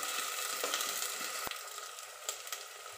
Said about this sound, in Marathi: जवळपास 2 मिनिटं कांद्याची ग्रेव्ही परतू द्यायची आहे.